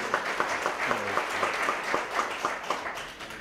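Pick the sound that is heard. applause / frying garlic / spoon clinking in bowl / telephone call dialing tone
applause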